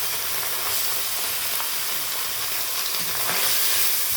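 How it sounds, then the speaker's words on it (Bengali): Small mourala fish fry in hot oil in a kadai, giving a loud, steady, close-up sizzle and hiss that runs unbroken throughout with no voices. "তেলটা গরম হয়ে গেছে, আমি কিছুটা পরিমাণ মাছ কড়াইতে তুলে দিলাম।"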